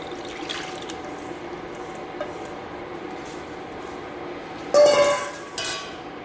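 Chicken broth mixed with a thickening slurry is poured into a pot for chicken and dumplings, a soft watery splash and gurgle rising suddenly near the end after quiet kitchen background.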